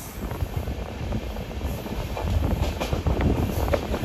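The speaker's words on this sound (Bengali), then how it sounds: "আমাদের ট্রেন কত সুন্দর কার্ভ নিচ্ছে" The 22-coach Sairang–Kolkata Express rounds a curve near Berhampore, heard from on board as a steady rumble with dense clattering of wheels on rails that grows slightly louder toward the end.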